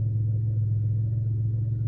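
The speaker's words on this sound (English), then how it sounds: "It's time for me to drive off again." A car idles and pulls away, producing a steady, loud low engine rumble that stays constant throughout, with no voices heard.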